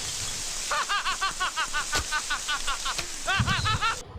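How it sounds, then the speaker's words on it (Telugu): Heavy rain pours down at Guntur railway station, a steady broadband hiss filling the whole clip while bursts of people's laughter rise over it nearby. "గుంటూరు స్టేషన్కి వచ్చేసరికి వర్షం అయితే గట్టిగా కుమ్మేసింది"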